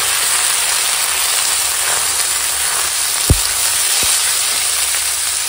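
Cut pumpkin and eggplant fry in hot oil over tempered spices, a loud, dense, continuous sizzling hiss with two short low thuds as pieces drop in.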